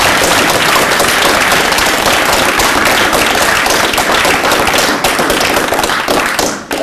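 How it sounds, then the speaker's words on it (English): An audience at a free software event gives loud, sustained applause for the volunteers, dense clapping throughout that fades slightly at the very end. "I would like to ask you if you can give them a big applause"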